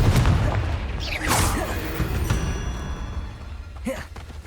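A Confringo spell explosion in the Hogwarts Legacy video game, a low boom followed by a rushing whoosh and a thud, then fading rumble, moderately loud with a brief voice near the end.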